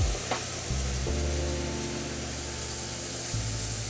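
Heavy cream poured into hot amber caramel in a pot, a steady loud sizzle and bubbling hiss that starts abruptly and surges as the liquid hits, continuing with no one talking.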